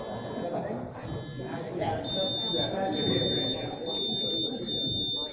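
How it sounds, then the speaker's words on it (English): At a quiz bowl tournament's all-star game, a contestant's buzzer is tested and lets out a steady, high electronic tone that holds for several seconds beneath a crowded, murmuring hall with people talking. "You guys want to check your buzzer yourself?"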